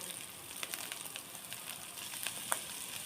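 Grated galangal sizzles in a hot pan, a faint, soft frying hiss dotted with light crackles and pops, steady with no voices.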